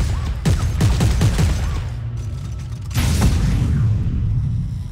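Weapon fire in Dead Space 3 from a high-tech, crossbow-like gun: two loud bursts of sharp, rapid shots with metallic mechanical clatter, separated by a brief lull.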